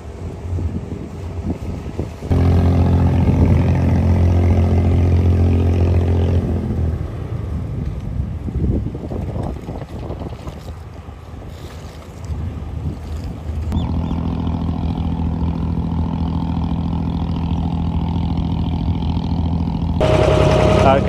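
Passenger boat engine crossing the creek in Dubai, a steady droning hum with wind buffeting the microphone, holding loud and close throughout with brief shifts in pitch as the boat moves across the water.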